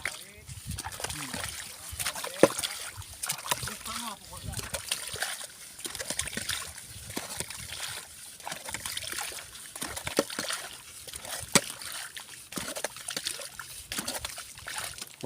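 Water scooped and splashed out of a waterlogged planting hole for an oil palm seedling, repeated sloshing and dribbling close by under ongoing outdoor talk.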